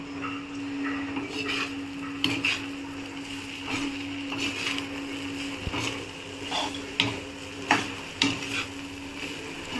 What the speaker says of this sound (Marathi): कढीपत्ता हा आपण थोडे हे परतून घेऊया आधी